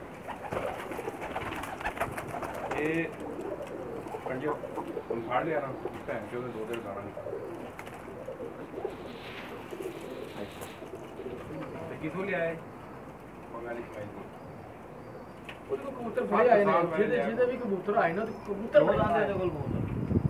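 Pakistani Sharmeela breed pigeons keep up a steady low cooing near at hand, under ongoing conversation, growing busier and louder toward the end.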